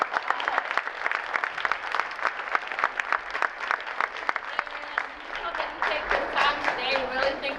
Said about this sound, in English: I just want to give another round of applause for staff and students at Woodbridge.